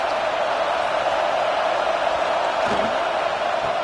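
At a college football game, a stadium crowd gives off a dense, steady roar. The noise stays loud and continuous throughout, with a brief thump near the end.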